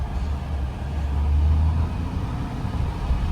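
1990 Honda Acty EX kei street van with dual sunroofs, a low-horsepower engine pulling in second gear, heard from inside as a steady low rumble with road and wind noise, a slight swell midway.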